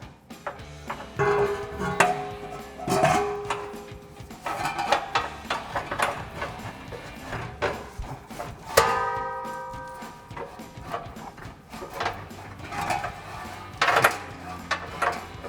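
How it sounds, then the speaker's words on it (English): Metal clanks and taps as a Borla exhaust mid-pipe is lined up and slid onto the muffler of a Jeep Gladiator JT, a series of sharp close knocks and ringing clinks spread irregularly through the work. "Then we can line our mid-pipe up and slide that on."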